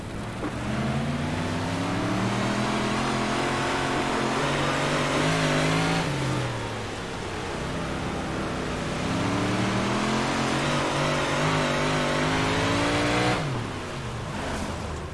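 Several 358 modified race cars at Limaland roar as they accelerate to the green flag, loud, sustained engine revving that rises and falls as gears change, with a brief dip midway and a second surge near the end.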